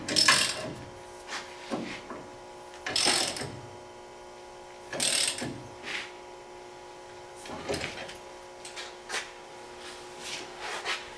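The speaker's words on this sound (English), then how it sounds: "So using a ratchet, not an impact, we're gonna start cinching it down." A hand ratchet cinches down a new ball joint on a 2013 Dodge Ram 3500, giving bursts of clicking strokes at irregular intervals with quiet pauses between, close and moderately loud with no talking.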